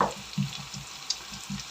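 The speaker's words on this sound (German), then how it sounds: "bloß zum Anbraten" Minced meat for bolognese sizzles steadily in a frying pan as it browns, with soft rhythmic scrapes and stirs from a utensil every fraction of a second, close up and with no talking.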